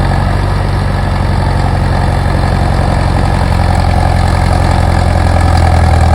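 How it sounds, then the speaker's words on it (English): A bulldozer engine runs steadily at close range while the machine builds a pad for a log mill, a loud, continuous low-pitched rumble with no break across the whole stretch. "The bulldozer's doing a great little job."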